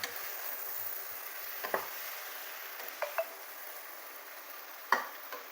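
Onion sautés quietly in a pan for onion chutney, a faint steady hiss with a few sharp utensil taps scattered through it.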